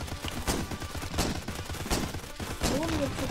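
Gunfire in The Crackpet Show video game: several sharp bursts of shots spaced about a second apart, loud and close, with electronic game effects between them.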